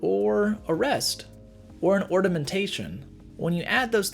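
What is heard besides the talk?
No distinct noise like a dog, phone or traffic.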